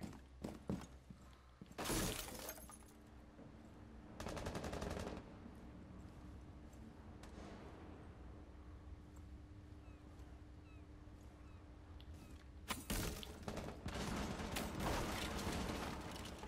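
Gunfire in a shooting video game: loud bursts of shots near the start, around four seconds and again after twelve seconds, with lower steady game noise between them.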